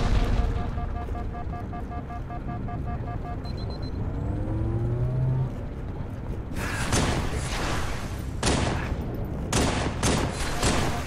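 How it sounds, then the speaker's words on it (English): Pistol gunfire in the video game Halo 3 comes as a string of sharp reports over busy in-game combat noise, with electronic tones and sweeps earlier and bursts of shots in the latter half. "might as well use up my pistol and save my battle rifle"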